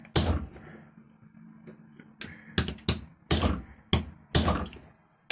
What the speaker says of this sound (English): we'll try to open it with a hammer